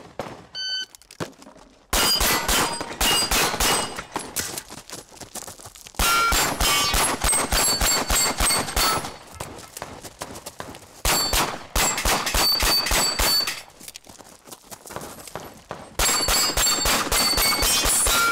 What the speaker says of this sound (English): he can take it the easy route, shoot everything, tie Shannon, and go into a shoot-off